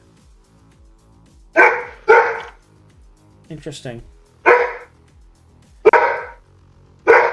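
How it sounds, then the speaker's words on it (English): A dog barks in several loud, sharp bursts spread evenly, with a short yip-like cluster in the middle and someone briefly speaking between barks. "This just in, doggo bark."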